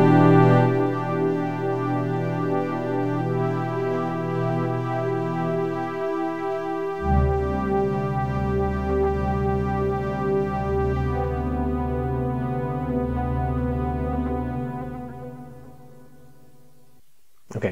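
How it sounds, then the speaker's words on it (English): A Korg Minilogue XD synthesizer, sequenced from an Elektron Digitone, holds a rich, sustained pad-like chord. It shifts to a deeper, fuller voicing midway, then fades out near the end, with no talking. "that was the Minilogue XD being controlled here by the Digitone"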